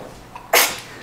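A single sharp sneeze bursts out midway through, loud and close, after a brief quiet moment with a faint vocal sound before it.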